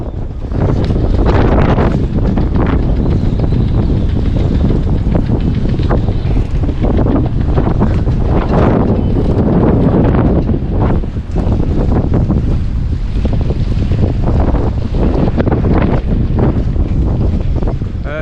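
A strong 35 to 40 knot gale blows through a harbour around a moored boat, a loud, continuous roar of wind buffeting the microphone with gusting surges and no talk.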